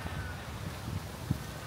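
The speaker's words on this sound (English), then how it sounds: "It's windy." Low, steady wind rumble buffets the microphone, with soft gusty thumps and a faint hiss throughout, no voices.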